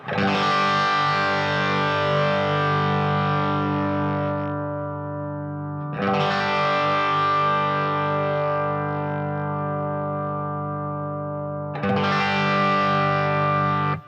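Three long distorted guitar chords ring out through a Quilter 101 Mini Reverb amp with its limiter compressing, each note held and sustained evenly before the next strike, loud with no talking.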